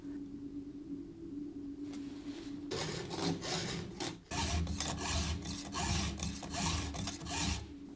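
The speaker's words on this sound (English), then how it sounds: "measure the shortest tooth and file all the cutting teeth to a uniform length" A hand file rasping across chainsaw cutting teeth in steady, repeated back-and-forth strokes, close and alone after a quiet start, with a short pause midway.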